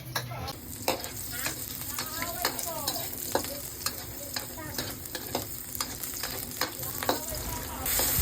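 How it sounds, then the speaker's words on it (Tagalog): Garlic and onion sauté in hot oil for a Filipino sinampalukang manok, giving a steady close sizzle with frequent sharp stirring scrapes, and faint chirping sounds in the background. "isusunod natin igisa itong bawang at sibuyas"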